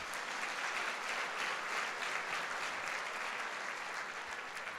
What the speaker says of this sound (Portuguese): Quem crê e se alegra com isso, dá um aplauso aí a Jesus.